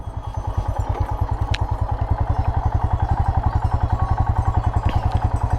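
A motorcycle pulls hard at full throttle in second gear on a mountain road in Tibet, its engine thumping in a fast, steady, loud pulse throughout, heard close up.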